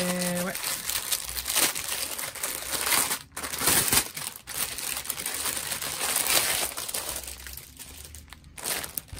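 Plastic and paper packaging of a cross-stitch kit is opened up close, with continuous crinkling and rustling, small taps and tearing sounds throughout, while a person talks over part of it.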